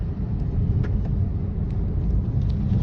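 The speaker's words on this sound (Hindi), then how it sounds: "ये गाड़ी मैंने चला रखी है अभी मैनुअल पर, ये मेरे पास ऑटोमेटिक कार है" A Hyundai i10 Nios automatic hatchback drives along, heard from inside as a steady, fairly loud low rumble of engine and road noise with no talking.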